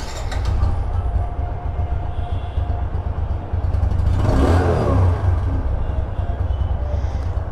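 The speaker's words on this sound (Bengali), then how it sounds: "আপনারা আসেন, এই বাইকের সাউন্ডটা একটু শুনি আমরা।" A used Apache RTR 160 motorcycle engine idles with a steady low rumble, swelling into a brief louder rev midway before settling back to idle, close by and with no talk.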